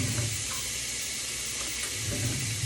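Food sizzling in hot coconut oil in a pan, a loud, steady, close hiss of frying that continues evenly without talk.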